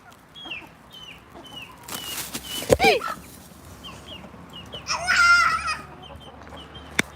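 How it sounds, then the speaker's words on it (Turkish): Chickens cluck and squawk in short bursts close by, with a louder flurry of flapping and agitated calls partway through, all set against quiet background hum. "Ne kadar şaşkın tavuk bunlar."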